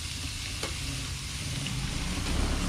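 Food being stir-fried in a hot pot at home, a steady close sizzle with occasional scraping stirs, continuous and moderately loud with no talk.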